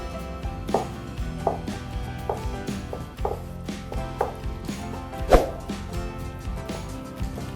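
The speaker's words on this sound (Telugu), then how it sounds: "ఫస్ట్ మెత్తగా దంచుకుందాము" Tomato and mint chutney pounded in a stone mortar, a steady series of dull, close thuds repeating about every half second with one heavier strike partway through, no voices.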